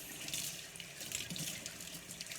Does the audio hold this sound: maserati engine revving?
no